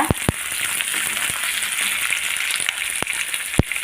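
Steady sizzling and crackling of onions and cashews sautéing in a pan, with occasional sharp clicks from stirring, no voices.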